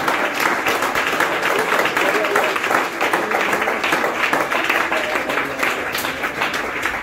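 A church congregation applauds steadily and loudly during an evening service. Voices and a crowd murmur blend into the sustained clapping.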